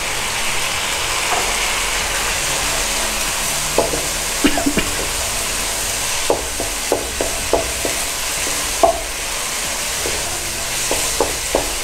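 Spices sizzle and fry in a pan on low heat for Pakistani chicken malai, a steady hiss broken by intermittent clicks and scrapes of stirring, close and moderately loud with no talk.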